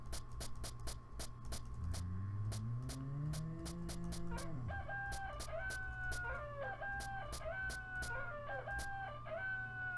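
Chickens cluck and a rooster crows in the video game Meat Beat, the crowing rising and falling over a steady stream of game clicks and a low hum, while repeated clucking bursts step through the second half.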